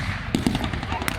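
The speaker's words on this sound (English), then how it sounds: "The ground troops lying down, firing their weapons." Bursts of gunfire from re-enactment ground troops lying prone and firing their weapons at a WW2 battle display, two sharp close reports and a later one over steady outdoor crowd and engine noise.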